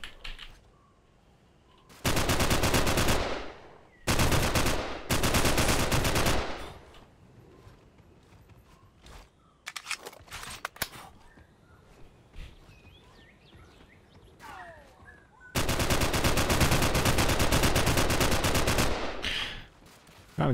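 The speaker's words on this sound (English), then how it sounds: "Man, the recoil on this gun is something else." Video game gunfire in the indie action shooter Frost League: loud, rapid automatic bursts lasting a couple of seconds each, separated by quieter stretches with scattered single shots and faint ambient game sounds.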